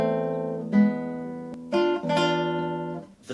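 Classical guitar chords from a Sor etude, each one rolled so the notes spread quickly upward rather than striking together, a few sustained chords ringing out alone and close by.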